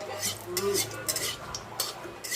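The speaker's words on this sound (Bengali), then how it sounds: "এদিকে ফোড়নগুলো একটু নাড়াচাড়া করে নিলাম" A utensil scrapes and clinks against a pan in short, irregular strokes as whole spices are stirred in oil, with a faint sizzle underneath.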